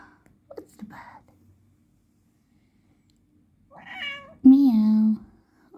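A Bengal cat gives a soft chirp early on, then after a pause lets out a clear, drawn-out meow close by, ending on a steady tone; the room is otherwise quiet.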